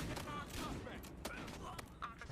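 Bursts of rapid gunfire ring out in a Battlefield Hardline bank heist match on Xbox One, several sharp cracks over a dense, noisy game mix.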